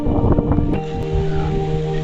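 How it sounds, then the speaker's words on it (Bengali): Strong wind during Cyclone Amphan in Maheshtala, South 24 Parganas, blustering hard against the microphone with rushing gusts, loud and close, no voices. "জোরে হাওয়া দিচ্ছে এখানে"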